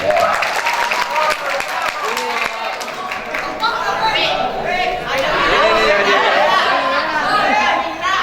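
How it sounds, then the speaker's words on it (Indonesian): A school audience at a Maulid Nabi commemoration claps steadily in a loud, dense wash, with crowd chatter and voices mixed throughout. "Tepuk tangan."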